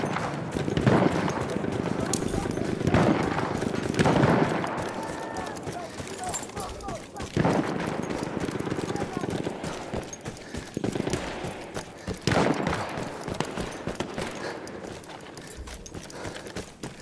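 Horse hooves gallop in a rapid clip-clop rhythm through a Battlefield 1 multiplayer battle, mixed with dense gunfire and explosions, with voices heard throughout.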